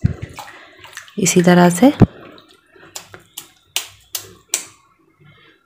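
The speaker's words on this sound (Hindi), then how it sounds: "पानी को नितारते हुए देखिए दूसरा गोला भी हमारा एकदम अच्छे से तैयार हो चुका है मक्खन का।" Water drips and splashes as it is squeezed out of a ball of homemade butter (makkhan), with a burst of pouring followed by several separate drops and taps, while someone speaks briefly in Hindi.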